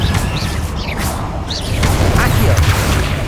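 Confringo blasting spell cast in the Hogwarts Legacy game, a continuous roar of crashing and whooshing magic bursts that swells louder toward the end, with a voice briefly calling out over the din.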